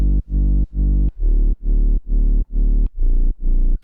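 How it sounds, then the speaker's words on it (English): Very deep synth bass line for a beat, loud and heavy, pulsing in a steady rhythm of about eight sustained throbbing notes with short gaps between them, alone with no talk. "And then I just added this really deep bass line, and it sounds like this."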